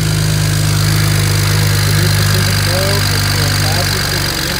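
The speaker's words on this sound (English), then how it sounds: "So it looks like the car is running pretty good so far." A BMW N54 engine runs at a steady idle after a Precision Raceworks coil pack install, a loud, close, even low rumble with a faint tonal whine over it.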